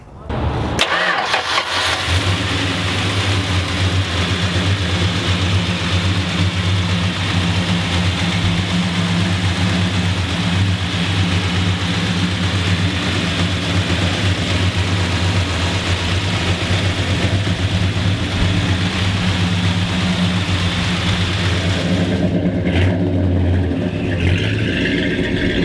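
A 1969 Dodge Super Bee with a 383 engine starts up and settles into a steady, loud, throaty idle with a deep rumble that holds for most of the stretch, then briefly changes near the end.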